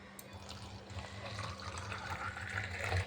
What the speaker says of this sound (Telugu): ఇందులో కాస్త వాటర్ వేసేద్దాం